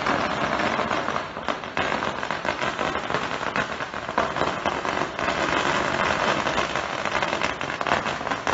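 Firecrackers set off in the street in front of the US consulate in Chengdu give a dense, continuous crackling roar that stays loud and steady throughout, with no voices.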